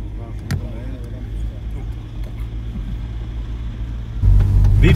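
A car rolls along a road in Peru, steady low engine and tyre rumble throughout with a heavier surge of noise near the end, voices faintly under it.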